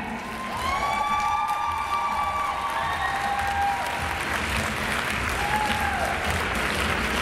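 Fans at an international Latin samba dance competition, the Russian Open, cheer and applaud in a big hall, a dense steady roar of clapping with whistles and shrill voices rising above it.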